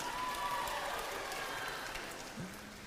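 Audience applause for the candidate pairs at a Tana Toraja regent election debate, a dense patter of clapping that gradually thins out, with a brief tone near the end.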